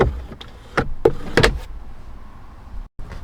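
Plastic glove box door on a Ford Bronco being pushed back into place, giving a few sharp clicks and knocks with a short rattle, close and fairly loud with a quiet pause between.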